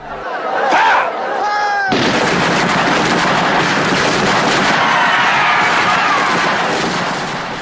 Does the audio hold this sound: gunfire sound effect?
yes